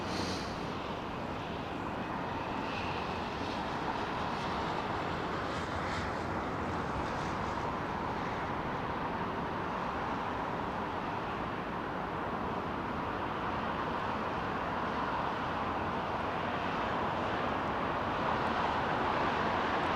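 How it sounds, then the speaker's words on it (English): DHL Boeing 767 freighter jet taking off at London Heathrow Airport, a steady, broad distant roar that swells slightly toward the end, with no voices over it. "This is a DHL 767 freighter."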